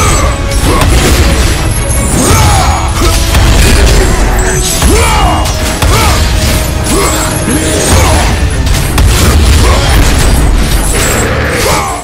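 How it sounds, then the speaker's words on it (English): A loud, dense explosion and crashing battle din from the video game God of War Ascension fills the whole stretch, with continuous rumbling, debris and clanking effects and no pause. "There we go, explosion time."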